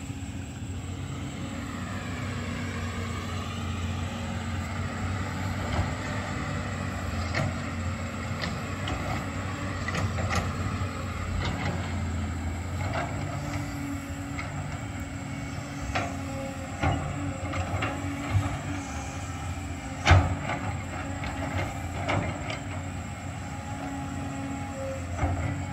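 A car engine overdue for an oil change runs loud and steady throughout, a continuous low droning rumble with slight fluctuations and an occasional faint knock or clunk.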